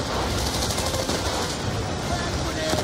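Sustained automatic gunfire in a war video game set in Afghanistan, dense overlapping bursts hammering continuously across the whole clip as enemy fire strikes a convoy.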